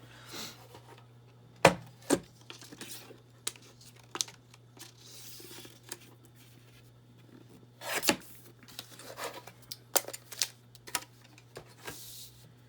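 Paper being cut and handled for a craft masterboard, with scattered crisp snips, rustles and sharp crinkles at irregular intervals over a low steady hum, close and fairly quiet.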